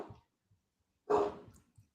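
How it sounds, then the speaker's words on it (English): A dog gives one short, muffled bark indoors, with a couple of faint yips around it, heard at a distance in an otherwise quiet room. "My dog's barking."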